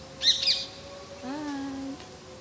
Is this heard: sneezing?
no